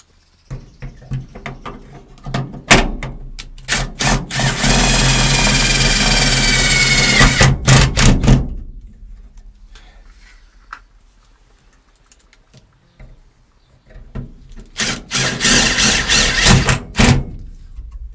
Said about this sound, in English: We're going to screw it in with these self-drilling screws.